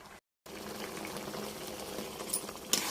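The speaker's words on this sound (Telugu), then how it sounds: "బాగా ఉడుకుతుందండి." Tomato pickle mixture simmering in plenty of oil in a pan, a steady close bubbling and sizzling hiss that runs on after a brief cut, with a couple of faint clinks near the end and no talk.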